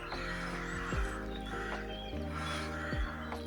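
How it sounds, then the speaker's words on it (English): Crows caw outdoors on a farm in sunny weather, giving several harsh calls at irregular intervals over a few seconds. They sound moderately close against a steady background. "The crows are even enjoying the sunny weather."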